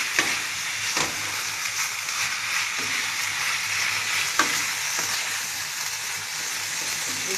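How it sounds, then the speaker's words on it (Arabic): Ingredients sizzling steadily in a frying pan as they are stirred and tossed, with occasional scraping clicks of the spoon; continuous close frying hiss, no talking. "نقلب المكونات كلها ببعضها"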